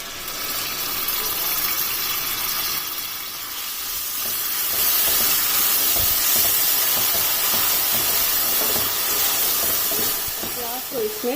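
Chopped onions hit hot oil with cumin in a pan, a continuous bright sizzle that swells louder partway through, with a voice briefly audible near the end.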